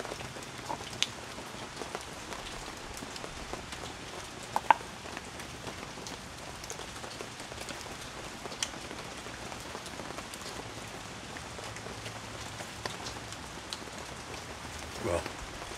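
Light rain patters steadily on a surface, with scattered louder drops standing out from the soft, continuous hiss.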